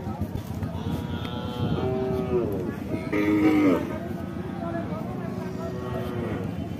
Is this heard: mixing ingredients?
no